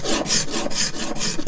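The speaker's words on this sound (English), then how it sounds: "So on this side I'm going to be scraping" A steel scraper working down the binding on a handmade guitar or ukulele body, heard as close, rhythmic rasping strokes, about three long scrapes repeated with steady pacing.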